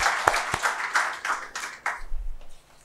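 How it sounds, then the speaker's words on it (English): Audience at a panel discussion session clapping, with a few sharp distinct claps standing out near the start before the applause thins and fades to quiet. "please give him a round of applause"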